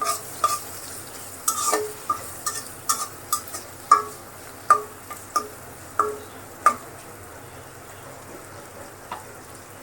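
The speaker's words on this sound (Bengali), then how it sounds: "শুটকিটা আর পেঁয়াজটা ভেজে নিবে একটু" Dried fish and onion fry in a pan with a soft steady sizzle, broken by a run of sharp clinking taps from a spatula or spoon against the pan that fade out toward the end.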